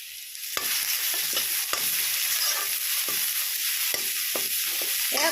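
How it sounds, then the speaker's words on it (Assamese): Onion and garlic sizzle steadily in a hot pan on a home stove, and a spatula scrapes and knocks against the metal in irregular strokes. The frying is close and fairly loud, and no one speaks. "দি পেলাই অকণমান ভালদৰে লৰাই দিম"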